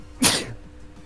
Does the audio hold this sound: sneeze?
yes